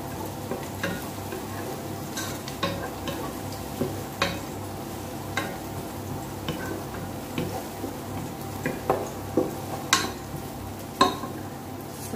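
Onion and garlic frying in a pan, a continuous soft sizzle broken by regular clinks of a utensil stirring against the pan, close and fairly quiet with no talk.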